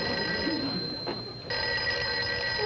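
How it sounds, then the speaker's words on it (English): A telephone rings in an office conference room, a steady, bright electric bell that keeps sounding with only a brief break, with a voice speaking over it. "Somebody answer the phone."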